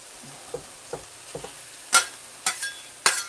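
Hamburger meat and onions cook on a thin stovetop griddle, a quiet bed of sizzle marked by a few soft taps followed by several sharp, loud scrapes and clacks of a spatula against the metal.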